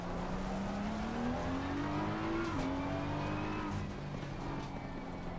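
A BMW M4 GT3 race car engine in a racing video game revs high and steady, its pitch climbing then dropping sharply at a gear shift before climbing again; loud, continuous, no voices.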